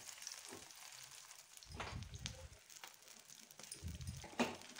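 Rohu fish fry crisply in a pan, a quiet, faint sizzle broken by a few soft clatters and scraping stirs, close but low in level, with no voices.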